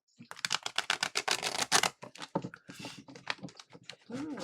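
A deck of reading cards gets shuffled close up, with rapid crisp riffling flutters that burst and then trail off into scattered soft card slaps.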